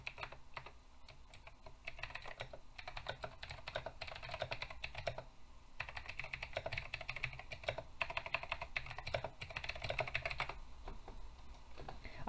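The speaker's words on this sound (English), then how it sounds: "I feel like this keyboard sounds like I'm typing on a typewriter." Fast, clacky typing on a computer keyboard with a sharp, typewriter-like click, during a Guild Wars 2 session. Keystrokes come in dense irregular bursts with brief pauses, close and moderately loud.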